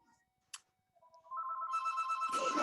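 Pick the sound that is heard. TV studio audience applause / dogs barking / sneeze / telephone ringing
telephone ringing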